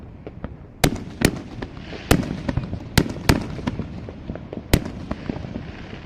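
City-wide fireworks show, heard from a moving car, with sharp bangs and crackles going off one after another across several seconds over a constant rumble, some loud and near, others fainter and more distant.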